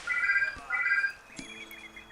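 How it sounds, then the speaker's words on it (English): A telephone rings in the city-building game Pharaoh: two bright trilling bursts, a short gap between them, followed by fainter chiming tones and a soft thud, all fairly quiet. "Oh, that's somebody on the phone."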